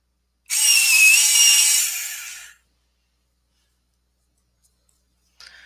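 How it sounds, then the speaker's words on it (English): A loud electric pencil sharpener grinds a colored pencil for about two seconds, then stops; a faint brief scrape follows near the end. "My sharpener is really loud."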